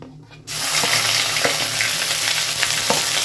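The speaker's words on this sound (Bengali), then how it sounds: "আদা দিয়ে খানিকক্ষণ ভেজে নিয়েছি।" Ground ginger sizzling with tempering spices in a hot pan for a potato curry, breaking into a loud, steady fry after a quiet start, with small clatters of stirring through it.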